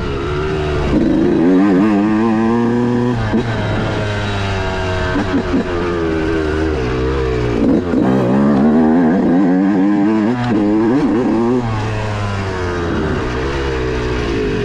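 Yamaha YZ125 two-stroke dirt bike ridden along a trail, its engine buzzing loud and close throughout with repeated rising and falling revs as the throttle is worked.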